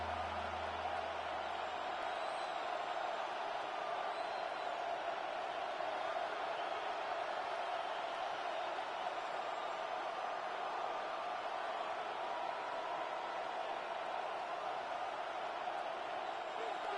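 A stadium crowd in Madden 26 football sends up a constant distant roar of cheering and murmur, broad and even, with faint swells and no distinct voices standing out.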